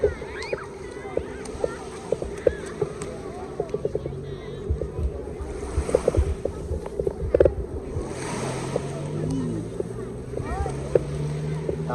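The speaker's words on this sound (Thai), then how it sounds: "นี่จะเป็นบรรยากาศน้ำทะเล" Sea waves wash onto the beach at Bang Saen in a broad, rolling rush that swells and fades under gusty wind, with voices and scattered clicks nearby.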